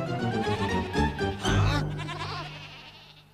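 A cartoon sheep bleats in a long wavering cry, loud and close, overlapping a sustained low tone that trails off.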